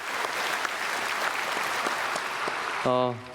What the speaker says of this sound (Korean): 찬양대에게 박수로 축복하겠습니다.